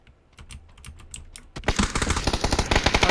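Gunfire in the video game PUBG erupts as a loud, dense burst of rapid shots after a stretch of soft, scattered keyboard-like clicks.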